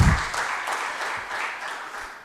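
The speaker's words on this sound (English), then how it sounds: "They need a good applause and claps," Conference audience clapping for the organizers at a medical meeting, a brief burst of steady applause from many hands in a hall, fairly loud and sustained without voices standing out.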